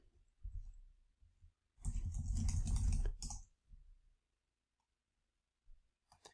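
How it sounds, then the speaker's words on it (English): Keys clatter on a computer keyboard as web addresses are typed: a brief tap, then a dense burst of rapid typing for about a second and a half, a few stray clicks, silence, and a final faint tap. "just type in actual URLs that don't exist."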